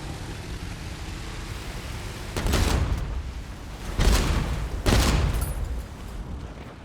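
Ship cannons fire in the naval video game Age of Water, three heavy booming volleys rising out of a constant dense rumble of battle noise.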